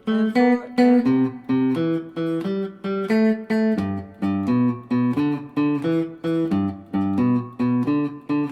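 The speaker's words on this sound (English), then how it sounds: "So the last 4 bars all together sound like this." Electric guitar plays the closing four bars of a blues in G, with rhythmic plucked chord stabs and single notes in a steady swung pattern, close and clear, with no talking.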